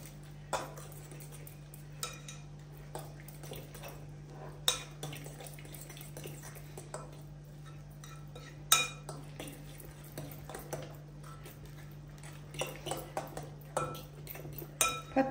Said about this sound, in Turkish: Bundan da güzelce karıştıralım.